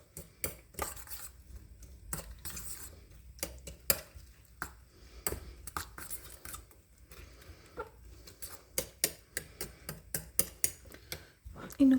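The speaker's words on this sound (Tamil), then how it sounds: "ஸோ இப்போ இந்த எல்லாத்தையும் நல்லா மிக்ஸ் பண்ணிக்கிறேன்." A spatula stirs scrambled egg with green gram in a pan, making sharp, irregular metallic clicks and taps against the pan at close range, with soft scraping between strikes and a faint low background murmur.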